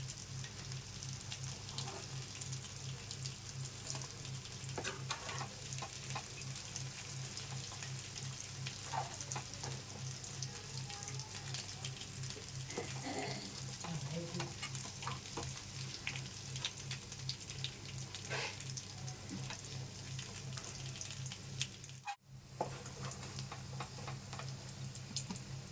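Chicken pakodi deep frying in oil, a continuous crackling sizzle with fine ticking pops, steady and close for the whole stretch.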